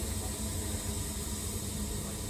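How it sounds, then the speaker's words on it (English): Steady pink noise test signal, corrected with a room filter and played through a Bacch SP processor at an audio show, a dense, even broadband hiss that holds at a constant level throughout. "this is the corrected pink noise with his filter"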